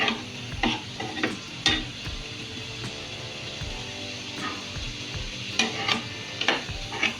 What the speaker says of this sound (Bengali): আমরা মশলাটাকে এখন মাখিয়ে নিচ্ছি।